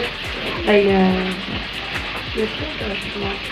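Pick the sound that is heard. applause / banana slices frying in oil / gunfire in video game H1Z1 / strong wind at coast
banana slices frying in oil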